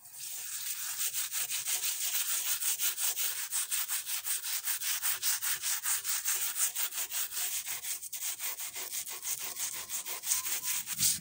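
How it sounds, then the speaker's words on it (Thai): A scouring pad scrubs a wooden cutting board that was first treated with baking soda and lime. The scrubbing is close and steady, a fast back-and-forth rasp with an even rhythm that runs alone for the whole stretch. "เราก็จะขัดแบบนี้ให้ครบทุกด้านเลยนะคะ"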